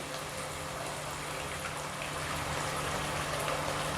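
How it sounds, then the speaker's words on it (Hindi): Water pours into a pan of fish chilli gravy on a high flame, making a steady, fairly quiet gushing hiss that runs evenly for a few seconds with no voices. "1 मिनट के बाद हम इसमें पानी ऐड कर देंगे।"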